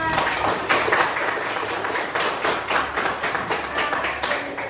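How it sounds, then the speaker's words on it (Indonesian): A short burst of clapping from a small group, irregular and fairly close, lasting a few seconds with no talking. "tepuk tangan untuk kita semua"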